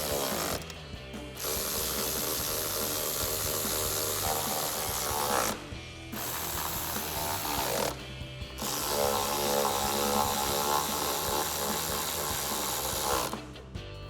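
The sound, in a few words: ratchet with 10mm socket tightening nuts and bolts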